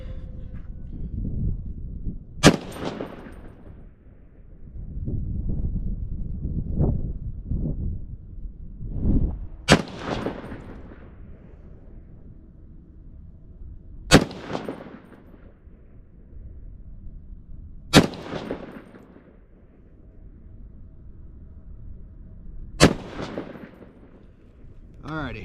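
Five sharp rifle shots from an Aero Precision M5E1 firing Hornady Black 168 gr A-Max ammunition, each a loud crack with a trailing echo, spaced several seconds apart over low outdoor rumble and noise.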